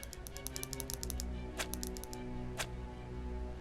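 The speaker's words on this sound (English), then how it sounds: "make sure I'm typing that right" Rapid keyboard clicks entering a character name in Persona 5 Royal, bursts of close taps with short pauses between them, against a quiet background hum.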